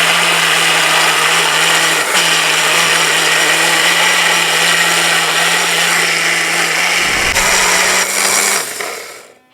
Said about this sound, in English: All right, we've got it all blended up.